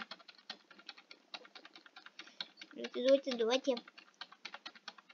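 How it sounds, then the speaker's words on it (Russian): Rapid clicking on a computer keyboard during a Roblox business simulator game, a dense quick patter of keystrokes close to the microphone, with a brief spoken word partway through. "Я боюсь, что у меня сейчас клавиатура просто сломается."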